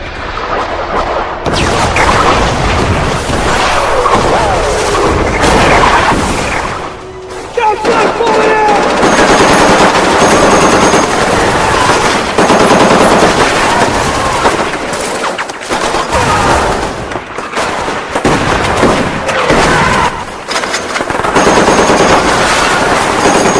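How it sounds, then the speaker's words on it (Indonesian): Sustained machine-gun fire in a Pacific War film battle rattles almost continuously with dense bursts and shots, loud and chaotic, with faint voices mixed in. "tiba-tiba di luar sana baku tembak terjadi"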